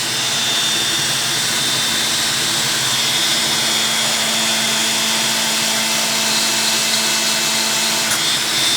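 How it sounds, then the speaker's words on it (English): A power drill whirs continuously at a steady high speed, spinning a custom 1.5GT pulley against sandpaper, a loud constant mechanical drone with a faint grinding hiss throughout. "And then the next step will be turn the drill back up."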